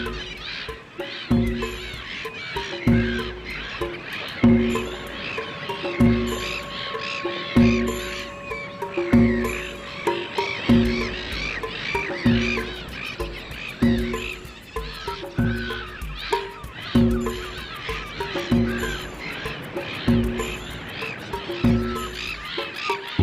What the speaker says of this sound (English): Millions and millions of gulls, cormorants, and gannets gather together and screech